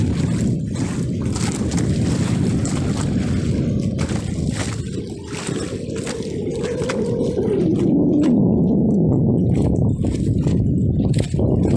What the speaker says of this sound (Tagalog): Medyo mahangin-hangin ang panahon.